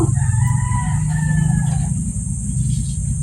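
Chickens and a rooster in a rural province yard give a drawn-out crow and clucking over a steady, loud background hum.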